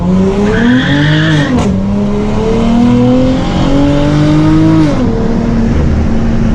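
A 2017 Dodge Challenger SXT Plus with a Solo Performance exhaust revs up and down several times, the exhaust note rising and falling in pitch, loud and close, with no talking.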